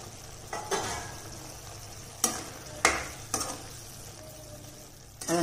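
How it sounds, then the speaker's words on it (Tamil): Okra sautés in a pan with a quiet background sizzle broken by several sharp spatula scrapes and clinks at irregular intervals, close by and without speech. "இந்த மாதிரி டைத்துல தான் வெண்டைக்காயை போட்டு வதக்கணும்"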